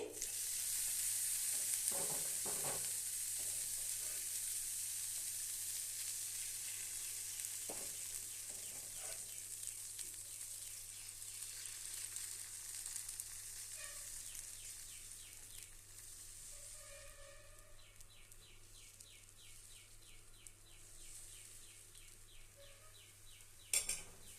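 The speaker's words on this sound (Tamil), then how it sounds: "இப்போ நம்ம தோசையை செஞ்சுக்கலாம் கல் காஞ்சிருச்சு" Kara dosa cooking on a hot stone griddle gives a faint, even sizzle throughout, with a few soft clinks and one brief tap near the end.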